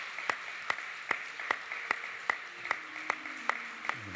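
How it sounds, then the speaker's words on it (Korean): Evenly spaced sharp claps from a church congregation during a Sunday service, about two or three per second, against a steady low hum. The clapping is moderately close with no voices over it. "우리 큰 박수로 축하해 주시기 바랍니다."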